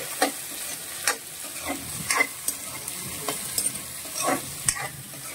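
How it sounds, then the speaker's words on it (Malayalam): Onions with green chillies sautéing in hot oil in a pan for a clam and tapioca dish, a steady close sizzle broken by repeated scraping strokes of a spoon stirring them. "ഉള്ളിയും കൂടി ചേർത്ത് കൊടുക്കാം. നന്നായിട്ട് വഴണ്ടു വരണം."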